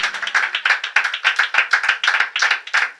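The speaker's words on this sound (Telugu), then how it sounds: "నమ్మిన వారు గట్టిగా చప్పట్లు కొట్టండి" A church congregation clapping hands together at a Telugu Christian sermon, a fast, even run of loud, close claps sustained for the whole moment without speech.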